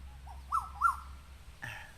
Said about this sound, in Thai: เสียงนกกาเวา นะครับ มันร้องอยู่ใกล้ ๆ